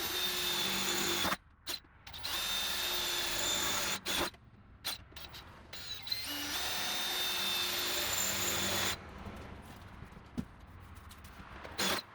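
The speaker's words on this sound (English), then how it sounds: "I'm going to temporarily tape it into place so I can mark where to drill the holes" A power drill whirs in bursts, starting and stopping several times with short pauses between, close and fairly steady when running.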